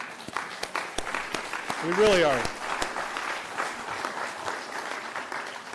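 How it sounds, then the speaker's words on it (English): Town hall audience applauding, a steady wash of clapping that swells briefly and then holds, with someone speaking over it. "I hate to applaud for that"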